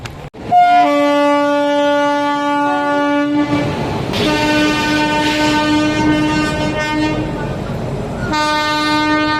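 A train roars past close by, its loud horn blaring in long sustained tones over the rumble of the wheels.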